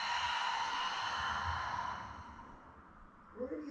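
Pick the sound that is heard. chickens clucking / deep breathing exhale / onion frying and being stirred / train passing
deep breathing exhale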